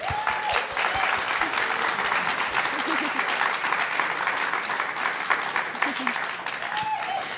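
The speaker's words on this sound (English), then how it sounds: "Can we give another round of applause to our 5 finalists?" A crowd applauds steadily, dense clapping filling the room throughout, with a few cheers and voices rising briefly above it.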